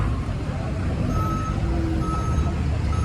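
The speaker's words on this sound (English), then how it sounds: "There's a backhoe working, he's cleaning up in one place, piling it in another." A backhoe working at a street construction site in Chapala, its reversing beeps sounding at intervals over a loud, continuous engine rumble and broad traffic noise.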